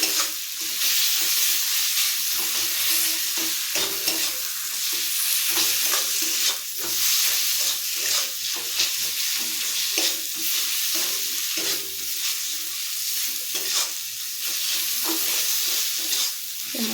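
Spices frying in hot oil in a pan, a loud, dense, continuous sizzle with rhythmic scraping as a spatula stirs them; close and steady throughout, with no talking.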